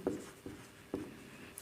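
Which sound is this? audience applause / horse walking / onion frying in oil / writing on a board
writing on a board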